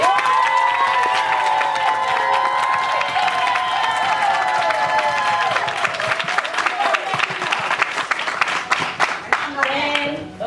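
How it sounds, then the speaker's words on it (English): Audience at a film screening Q&A giving a loud, sustained round of applause with cheering and whoops, steady throughout with shouting voices mixed in. "I would love to hear the most thunderous, loudest round of applause for his dying wish."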